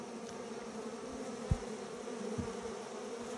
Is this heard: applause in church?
no